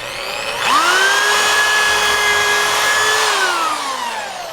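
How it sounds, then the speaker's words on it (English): A power drill whines as its bit drives through a wooden board for a catapult build, the motor revving up sharply, holding a steady high pitch for a few seconds, then winding down. "squeeze quickly to make the drill drive all the way through"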